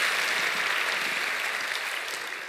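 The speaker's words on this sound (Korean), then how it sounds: "우리 박수 한번 칩시다" Applause from a church congregation at a Friday overnight worship service, a dense, steady wash of many hands clapping that holds for a couple of seconds and tapers slightly at the end.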